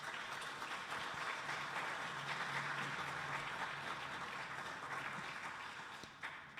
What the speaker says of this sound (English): Let's give our wonderful team a round of applause.